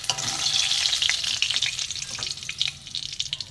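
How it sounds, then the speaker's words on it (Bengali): Potatoes seasoned with turmeric frying in oil in a wok, a close, dense crackling sizzle that swells and fades slightly with occasional stirring clicks. "আলু ভাজা হয়ে গেছে বন্ধুরা, এটা তুলে নেবো, তেল ছেঁকে ছেঁকে তুলে নেবো।"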